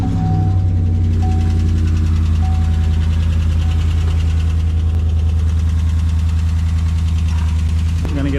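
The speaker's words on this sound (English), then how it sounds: "Be doing lifters because they're ticking" A Chevy Silverado Z71 1500 engine idles steadily and loudly up close, its low drone overlaid by a fast, even ticking from worn lifters that continues throughout.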